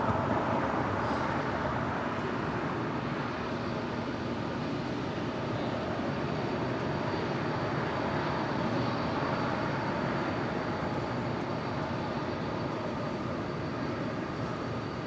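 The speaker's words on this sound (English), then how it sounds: "the LATAM Dreamliner now crossing over 25 right." A LATAM Boeing 787 Dreamliner taxis across runway 25 right at LAX, a steady distant jet rumble and hiss that holds evenly throughout with no voices.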